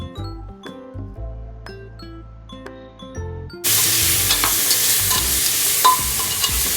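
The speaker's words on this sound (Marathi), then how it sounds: "त्यातच मी टोमॅटो, बटाटा, वाटाणा हे सर्व त्यात टाकलेलं आहे आणि ते सर्वही मी व्यवस्थित परतून घेत आहे." Partway through, a loud, steady sizzle of tomato, potato and peas being sautéed in a pan for khichdi takes over, with occasional clinks from stirring, after a stretch of chiming music.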